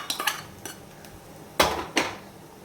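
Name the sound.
stirring ravva laddu mixture in a pan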